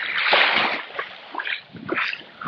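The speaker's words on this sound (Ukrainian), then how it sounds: "Ну що, заходимо в море." Waders stepping into the sea while fishing for sea trout in rain and wind, water splashing and sloshing in uneven surges close by, with no talk.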